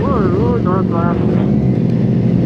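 A group of motorcycles, including a Yamaha XSR900, ride together uphill, their engines droning steadily close by with rising and falling revs, while voices talk over the engine noise.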